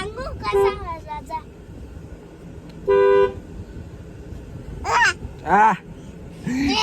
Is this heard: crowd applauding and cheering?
no